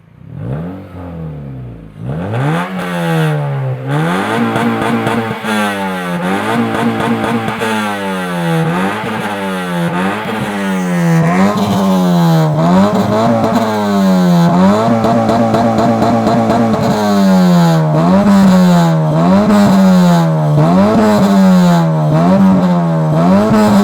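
A restored and modified Honda Civic engine is revved again and again, loud and close, each rev rising and falling in a steady rhythm for over twenty seconds, with no voices.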